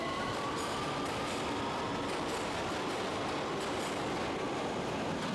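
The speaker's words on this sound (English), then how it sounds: "The doors close, and away it goes off to the next station. The train moves away quickly." A train pulls away from a station, a loud steady rolling roar with wheel rumble and faint squeal that carries evenly throughout without any talking.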